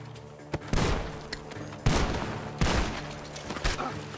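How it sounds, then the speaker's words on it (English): Gunfire cracks out from a barn during a Red Dead Redemption 2 shootout: several loud, sharp shots at irregular intervals, some in quick clusters, each with a trailing rumble over game ambience. "The gunshots are coming from that barn!"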